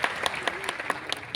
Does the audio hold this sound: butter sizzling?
no